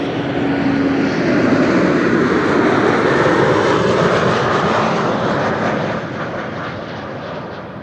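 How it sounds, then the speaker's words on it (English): KLM Embraer 190 airliner on flight 1788 from Hanover arrives at Amsterdam Schiphol, its engines making a steady, close roar that swells slightly, then eases off and fades toward the end. "this is KLM flight 1788, an Embraer 190 arriving from Hanover in Germany"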